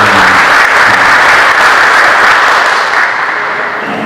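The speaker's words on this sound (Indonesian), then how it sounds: "Kasih aplaus untuk" An audience at an anti-corruption training opening ceremony in Indonesia applauds in a dense, sustained wash of clapping that fades slightly toward the end.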